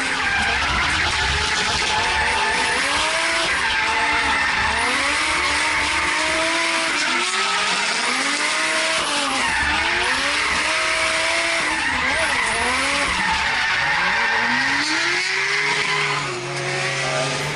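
An RB25-powered S-chassis drift car with a tube front end slides around Hidden Valley track in Darwin, tires squealing in long sweeping howls over a loud, continuously revving engine that rises and falls with each drift.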